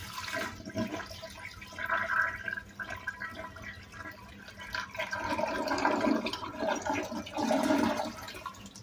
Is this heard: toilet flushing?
yes